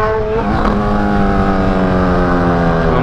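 A Honda CB1000 motorcycle engine revs loud and close, its pitch climbing steeply then holding a strong sustained high-revving roar.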